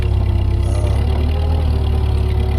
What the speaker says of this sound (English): on my 8N tractor, clearing the snow on the property